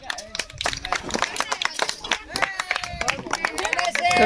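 A crowd at an NSS camp claps for the teachers, dense uneven applause mixed with lively chatter and shouting voices throughout.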